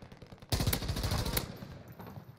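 Automatic gunfire in Call of Duty Warzone bursts in loudly after a half-second of quiet, a rapid rattling stream of shots that continues steadily, then tapers slightly toward the end.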